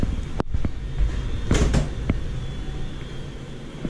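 A home refrigerator door is handled, giving a few soft thumps and a muffled clunk against a steady background hum, fairly close and moderately loud, with no speech.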